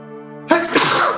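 One sharp, loud sneeze close by with an abrupt burst and a short breathy tail, following a brief steady humming tone.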